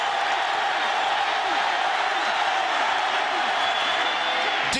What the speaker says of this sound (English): Cowboy crowd making as much racket as they can